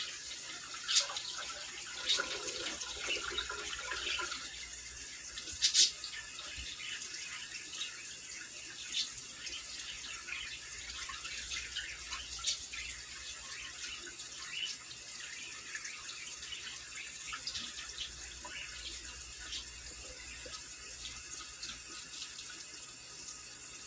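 Water drains from pasta into a bowl in a kitchen, a continuous splashing trickle like a running tap that stays even and fairly quiet throughout, with a few brief clinks near the start.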